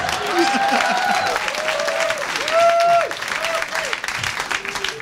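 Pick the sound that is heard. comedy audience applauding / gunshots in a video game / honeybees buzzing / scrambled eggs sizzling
comedy audience applauding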